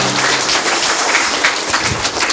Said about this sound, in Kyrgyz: Кол чабуулар туугандар, Нурдана.